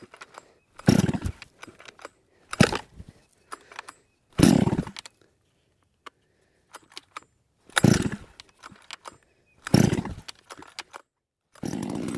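A Stihl MS 660 clone chainsaw, left unused for a couple of weeks, is pulled and cranked in six loud, short bursts separated by silence, sputtering without settling into a steady run.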